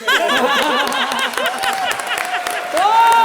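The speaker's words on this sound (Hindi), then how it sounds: "जोरदार तालियां राज और निकुल गांडा के लिए।" A TV comedy show's studio audience laughs and claps for the guests Raj and Nikul, loud and close, with bright claps under sustained voices and laughter that swell again at the end.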